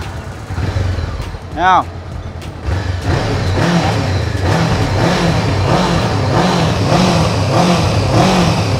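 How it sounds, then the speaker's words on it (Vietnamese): Honda CB500F motorcycle with its stock exhaust, close by, idling and then revving repeatedly in a rising and falling rhythm; someone briefly speaks over the engine near the start. "Để cho anh em nghe tiếng bô zin."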